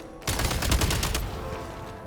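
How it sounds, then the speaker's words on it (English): A quick burst of several rapid gunshots rings out in Genshin Impact as explosives are shot to clear a path, fairly faint and followed by a fading tail. "Shoot the explosives to detonate them and clear the path."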